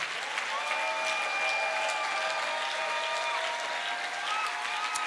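A church congregation applauding during a service, with steady, sustained clapping from many hands filling the room, fairly loud, with scattered voices and cheers mixed in.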